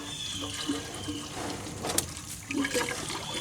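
Leftover water draining out of cut vent pipes on a tilted rain barrel, a steady close trickle and gurgle with a slight surge toward the end.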